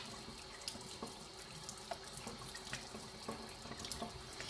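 Cold tap water runs steadily from a faucet into a sink while homemade butter is rinsed and pressed under it, a continuous close splashing rush with small irregular spatters and no voices.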